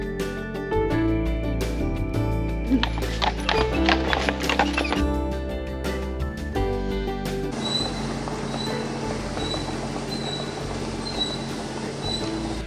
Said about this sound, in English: That was a gas-powered, horse-drawn street sweeper.